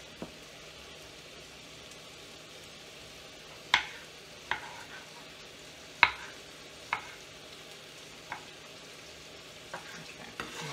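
Taco meat cooks in a pan with a steady low sizzle, broken by several sharp clacks of a utensil stirring and scraping, close and alone with no talk.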